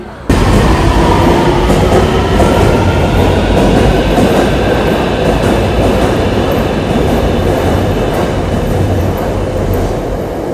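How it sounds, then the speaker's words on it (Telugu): Loud, continuous roar of a metro train rushing past close by at night in Chongqing, a dense rumble with rattling wheels that barely fades over ten seconds. "ట్రైన్స్ కూడా New York city copy, same New York city model, Chicago model"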